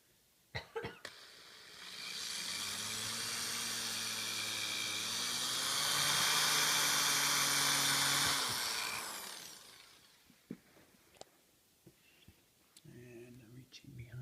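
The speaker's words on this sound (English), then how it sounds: "then I'll tighten these screws down in the bottom here" Power screwdriver driving screws into the underside of a vintage Madison chair while arm rests are being added: a steady whirring drive of several seconds, close and loud, then stopping, followed by light handling clicks and a brief voice.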